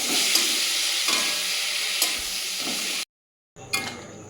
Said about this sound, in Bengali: এগুলো এবারে ভালো করে নেড়ে দেবো এর সাথে।